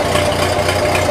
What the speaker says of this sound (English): Definitely here with the PTO on turning the pump, that puts a load on her.